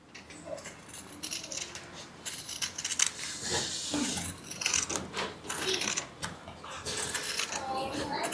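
Shoe-making material for a loafer is cut along a marked line, with crisp snipping and creaky scissor strokes in an uneven run of cuts, close and moderately loud, with no talk over it.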